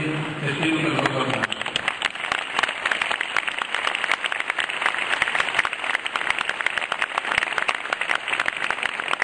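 An audience applauds at a public event honoring the health secretary and doctors, steady dense clapping that is moderately loud and continues evenly after a brief voice at the start.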